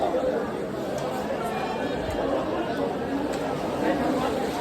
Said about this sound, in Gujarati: તો ઘણા બધા પબ્લિક અત્યારે સ્નાન કરે છે.